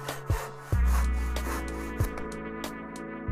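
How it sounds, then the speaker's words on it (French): A back saw cuts through a wooden rafter in a workshop, with firm rasping strokes and a few sharp thumps as the wood shifts. It sounds close and clear, with no voices. "Découpez le chevron à la mesure avec une scie à dos."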